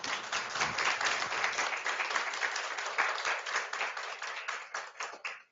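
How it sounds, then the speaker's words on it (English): An audience at an academic social sciences panel gives a sustained round of applause, with even, dense clapping at moderate volume that thins out and fades at the end. "Can we please give them another round of applause?"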